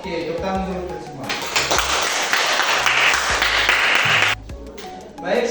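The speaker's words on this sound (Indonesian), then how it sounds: "Oke, tepuk tangan dulu semua." An elementary school class breaks into loud, dense clapping that lasts about three seconds and then stops sharply, with a teacher's voice before and after it.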